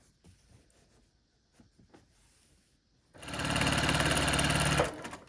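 A sewing machine stitches the last seam of a nine-patch quilt block, running as one steady, loud whirring burst of fast rhythmic needle strokes for under two seconds after quiet handling noises.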